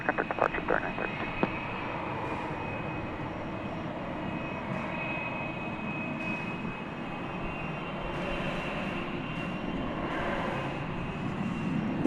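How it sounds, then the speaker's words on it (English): An Embraer 175 E-jet at a busy airport, its steady jet engine roar filling the air at moderate distance, continuous and broad, with faint radio chatter underneath. "that was an E-jet, I believe. Yep, an Embraer 175."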